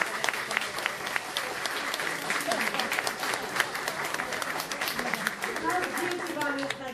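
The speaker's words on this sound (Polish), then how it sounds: "A teraz bijemy brawo uczniom. Nauczyciele i dorośli biją brawo uczniom" Teachers and adults applaud students at a youth entrepreneurship gala, with dense, steady clapping from a large crowd that fills the whole stretch. Voices can be heard faintly underneath.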